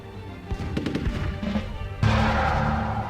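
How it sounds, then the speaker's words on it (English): Rapid gunfire aimed at anti-aircraft guns in the Rise of Nations WWII strategy game, with bursts of shots and booms layered over battle noise, getting louder toward the end. "start gunning down and aiming for those anti-aircraft guns"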